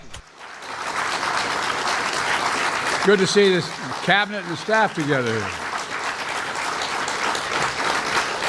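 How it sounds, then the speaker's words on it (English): Recorded applause clap track plays steadily and loops at an official cabinet gathering, a broad even wash of clapping running throughout with a voice speaking over it midway. "Like, it's literally a clap track. You can hear it looping."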